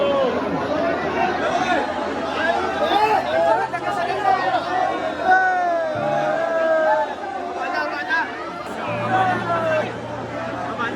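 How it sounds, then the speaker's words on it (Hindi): A packed crowd at Sanwariya Seth temple on a Sunday Amavasya makes a continuous babble of many voices, with nearer talk standing out over the steady hubbub. "आज अमावस्या और संडे भी था, तो भीड़ थी, और क्या भीड़ थी।"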